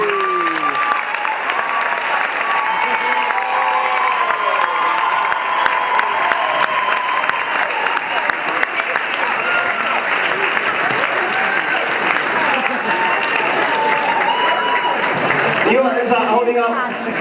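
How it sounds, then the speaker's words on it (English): Sustained, dense applause from a large audience after a Strictly Come Dancing-style tango charity performance, steady and loud throughout with scattered cheers and murmurs, ending in a brief burst of louder crowd noise. "One more round of applause"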